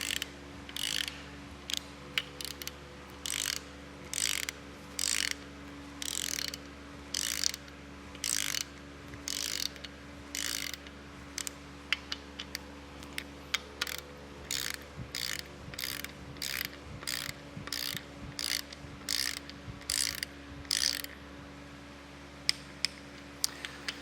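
A ratchet torque wrench tightens engine connecting rod bolts in two stages, clicking in quick repeated bursts of ratcheting strokes with short pauses between, close and alone over a faint steady hum.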